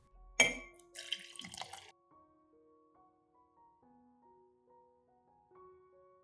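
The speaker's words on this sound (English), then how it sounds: "Once the lime peel solution has cooled, I pour it together with the lime juice." Cooled lime peel solution is poured together with lime juice to make orchid water, giving a short, quiet liquid splash and trickle lasting about a second. Faint, sustained tones continue afterward.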